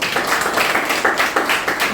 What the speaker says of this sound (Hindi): इनके लिए जोरदार तालियां बजाओ